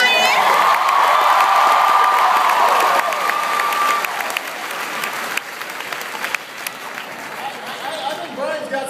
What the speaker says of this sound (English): give Brian a big round of applause